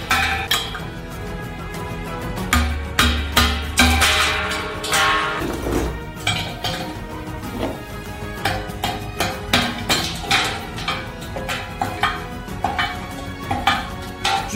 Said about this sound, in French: Tout ce qui dépasse, on le dégage avec un marteau.